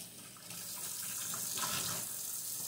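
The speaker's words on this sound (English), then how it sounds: "Rinse it off in some nice hot water." A kitchen tap runs hot water steadily into a sink while a cleaning rag is rinsed under it, a close, continuous splashing hiss with slight swells and no talk.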